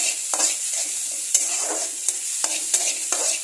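Whole cumin, dried red chilies and chopped onion fry in ghee in a pan, a steady close sizzle broken by repeated scraping stirs.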